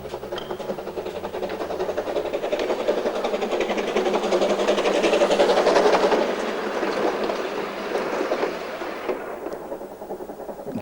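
A century-old steam engine train runs on the North Cornwall Railway with a steady, close rumble and rhythmic clickety-clack that swells midway and then eases. No voices are heard.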